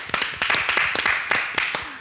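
A small group of women clap for themselves on a talk-show set, irregular claps spaced out over two seconds, fairly close and lively with a faint cheer.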